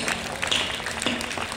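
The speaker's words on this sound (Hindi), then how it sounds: "एक बार चाहती हूँ आप अपने सम्मान में तालियां बजा दीजिए।" An audience at a Hindi kavi sammelan poetry gathering in Guna applauds, giving a dense, fairly soft wash of many hands clapping at once, heard from some distance.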